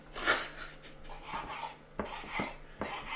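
A knife slicing cured ham into strips on a board: soft, close scraping cuts with several light taps of the blade, quiet and unhurried, no talk.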